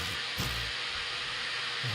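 Steady bathroom fan sound from a white noise app, a continuous broadband whooshing hiss at an even, moderate level with no talking.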